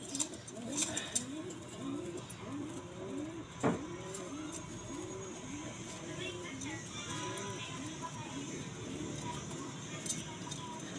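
A blue bar cock pigeon coos in a steady series of soft, low rolling calls, close by, with other birds faintly around and a brief knock partway through.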